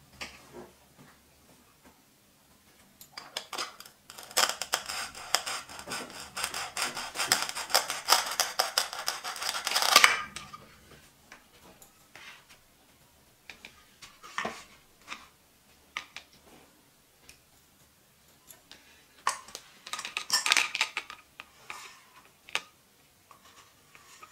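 Toy fruits and vegetables are sliced in two, giving dense bursts of crisp clicking and crackling that come in a busy cluster, then sparser scattered snaps and taps, close up with no talking.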